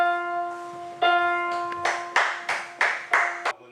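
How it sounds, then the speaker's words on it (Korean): Clapping at a long-running family wedding hall in Changwon, South Korea, breaking out over sustained music with steady tones, then rising into several loud rhythmic bursts toward the end. "한 예식장에서 노래와 박수 소리가 울려 퍼집니다"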